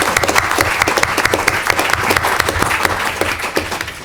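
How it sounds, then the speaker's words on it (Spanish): Sustained applause from an audience at a book collection presentation, dense steady clapping filling the room for about four seconds with no talk over it. "yo creo que se merece un aplauso para ella desde aquí"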